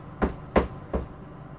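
Upholstery tacks being hammered into a couch during reupholstering: three sharp, evenly spaced knocks close by, each a short thud with a bright ring, with a quiet room between strikes.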